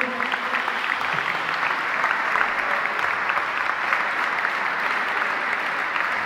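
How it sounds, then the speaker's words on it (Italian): An audience at a youth volleyball team presentation in Tuscany breaks into sustained, even applause, a dense crowd clapping at steady loudness from start to finish. "ci facciamo un grande applauso"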